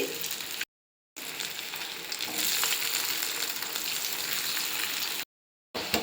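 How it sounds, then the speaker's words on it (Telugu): Cauliflower pieces for gobi 65 deep-frying in hot oil in a kadai, a dense, rain-like crackling sizzle that swells and holds steady, broken by two brief silent gaps. "వీటిని ఇలా దోరగా వేయించుకోవాలి ఇలా దోరగా గోధుమ రంగు వచ్చే వరకు వేయించుకొని పక్కన పెట్టుకోవాలి"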